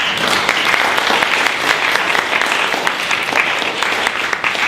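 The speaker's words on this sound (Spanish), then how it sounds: "unas palmas de bienvenida." Steady applause from an audience welcoming a speaker at a talk on technology-based startups, dense continuous clapping filling the space for the whole stretch without voices.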